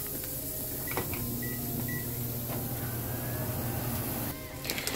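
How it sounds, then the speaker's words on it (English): A microwave oven heating rice hums steadily while a few short beeps sound. Near the end a clunk and rattle break in. "I'm just going to go ahead and put my rice in the microwave."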